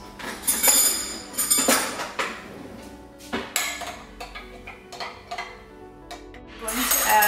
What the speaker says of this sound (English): I'm going to stir this.